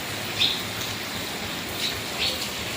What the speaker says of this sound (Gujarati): સવાર સવારમાં વરસાદ શરૂ થઈ ગયો